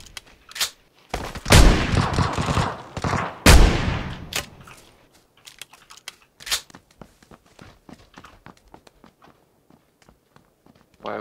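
Gunfire from a shotgun fight in the PUBG battle royale game: two loud, dense bursts of shooting near the start, then scattered sharp single shots and footsteps trailing off at low level.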